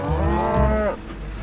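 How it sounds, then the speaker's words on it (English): A single cow lets out a short, close, loud moo among livestock on the Mongolian steppe, with no voices. "Surrounded by cows and horses and goats and sheep."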